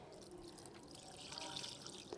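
Room-temperature water is poured over curdled milk to rinse it while making kulfi, producing a faint trickling and splashing with small drips close by and no one talking.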